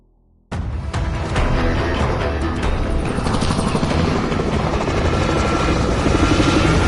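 Helicopter rotor and engine roar in Call of Duty Warzone, bursting in abruptly after a brief silence and then holding loud, dense and steady to the end.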